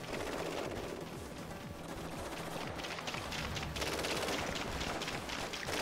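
Gunfire crackles through a battle in the real-time strategy game WARNO, dense rapid shots and bursts layered into a constant loud combat din with no pauses.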